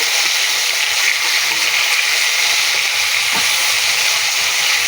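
Fish frying in a pan, a steady dense sizzle and crackle holding at an even level for about five seconds with no talk over it.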